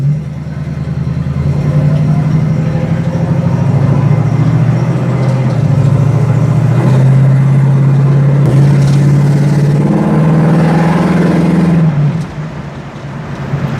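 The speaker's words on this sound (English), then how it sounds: "Car sounds great." A 1965 Ford Mustang engine running steadily at a low, throaty drone while driving, with slight rises in pitch as it pulls, loud and close, dropping off near the end.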